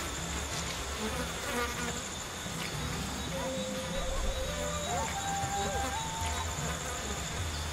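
Bees droning around a beehive in the video game Ancestors: The Humankind Odyssey, a steady insect buzz running throughout with faint ambient tones layered over it.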